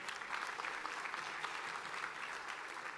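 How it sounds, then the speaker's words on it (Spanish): A church congregation applauds at a Christmas service, a dense, steady wash of clapping from many hands that fills the room without a break. "Yo creo que vale la pena darle un aplauso a la palabra de Dios"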